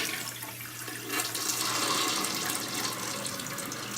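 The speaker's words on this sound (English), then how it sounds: "if I flush the toilet" A toilet flushes right after the water supply is turned back on, a steady close rush of draining and refilling water that swells after the first second and holds strong to the end, with no voices.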